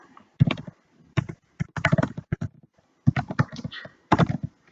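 Close, loud bursts of typing on a computer keyboard as a model name is entered, quick clusters of clacking keys separated by short pauses.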